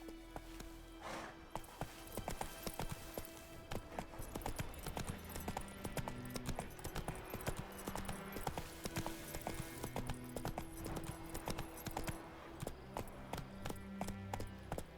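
Roach the horse gallops in The Witcher 3, hoofbeats clip-clopping in a steady, continuous rhythm up close, with game music tones running beneath.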